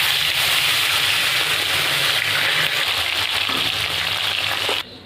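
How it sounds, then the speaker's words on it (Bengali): Puti fish frying in hot oil, a steady dense sizzle and crackle running loud and close throughout, cutting off abruptly near the end. "বাকি মাছগুলো আমি একইভাবে ভেজে নেব।"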